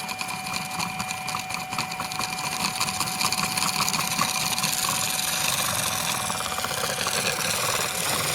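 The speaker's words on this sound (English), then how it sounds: "So there it is spinning at low power" A simple copper-induction rotor spins steadily at low power, giving a continuous mechanical whir and hum with a faint high tonal whine, rising slightly in pitch and intensity toward the end.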